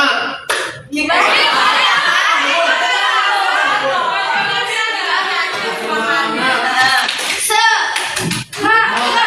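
Group of people at a teachers' training session doing tepuk semangat, a spirit clapping routine, with dense rhythmic clapping and chatter filling most of the stretch, close and lively.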